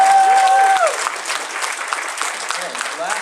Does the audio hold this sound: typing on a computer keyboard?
no